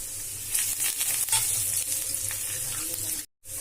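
Curry leaves hit hot oil in a pan for chutney, letting out a bright, continuous sizzle with a few crackles up close, cut off abruptly near the end.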